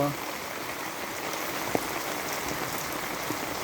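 Rain hisses down steadily with dense, even patter across a surface, and one brief tap stands out partway through.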